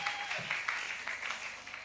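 Church congregation applauding Jesus during a temple-month service, steady dense clapping throughout with a few louder bursts and a faint sustained tone at the start.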